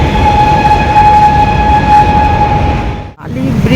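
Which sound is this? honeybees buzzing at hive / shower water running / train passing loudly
train passing loudly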